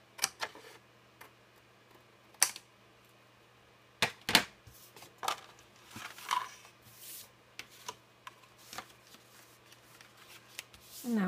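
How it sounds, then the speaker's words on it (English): Large scissors cutting through paper card for a pocket card and bookmark craft, heard as sparse, sharp snips and crisp rustles spaced irregularly in a quiet room. "I will just use these rather large scissors"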